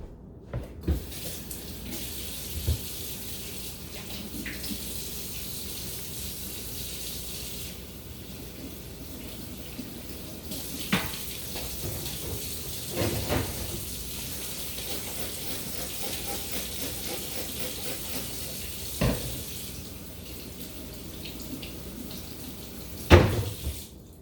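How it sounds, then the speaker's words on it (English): Fresh raspberries from a store package rinsed under a running kitchen tap, a steady close hiss of water splashing into the sink for about twenty seconds, with a few clunks and brief bumps near the end. "I'm going to throw them under some water"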